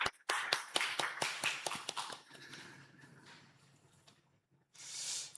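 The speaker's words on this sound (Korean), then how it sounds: "다시 한번 격려의 박수" A church congregation at a Wednesday service claps in encouragement, loud, sharp claps in a quick, regular rhythm that thin out and fade after a couple of seconds, followed by quieter murmuring and a soft swell of sound at the end.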